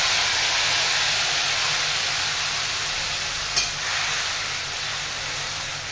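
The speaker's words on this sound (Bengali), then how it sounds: "এখানে আদা, লঙ্কা, টমেটো আর গোটা গরম মশলা, এখানে কাজু বাদাম পেস্ট করে রেখেছি, এটা আমি তেলের মধ্যে দিয়ে দেব।" Ginger, chili, tomato, whole garam masala spices and cashew paste fry in hot oil for a vegetable pakora curry, giving a steady, dense sizzle and hiss with one brief clatter partway through.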